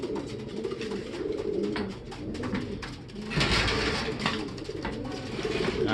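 A racing pigeon lands at its loft in bad weather and coos repeatedly up close, with a sudden rustling flurry midway, against a steady background hiss.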